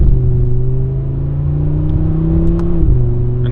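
A 2025 Audi RS3 engine is heard up close, a loud, smooth droning tone that shifts in pitch, with a brief dip near the end as the revs change.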